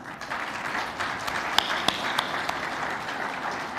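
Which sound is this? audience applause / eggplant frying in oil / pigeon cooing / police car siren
audience applause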